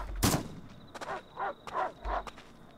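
A gun fires in the survival video game Rust. One sharp, loud shot comes first, followed by a few softer, muffled bursts spaced out over the next two seconds.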